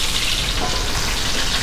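Loud, steady sizzling of chicken frying in hot oil, crackling continuously and close up.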